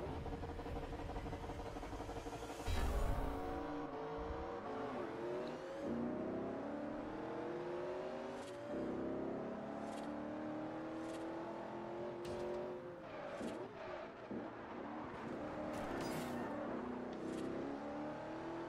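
Race car engines in Forza Horizon rev and wind up through repeated gear changes, a steady mechanical whine rising and falling with occasional sharp clicks, with no voices over it.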